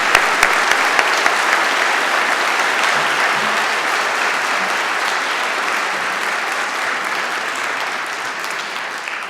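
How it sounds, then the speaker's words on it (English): Steady, dense applause from a large seated audience for a university big band at a convocation ceremony in a concert hall, sustained evenly throughout and tapering slightly toward the end. "Let's give up a big round of applause for them today."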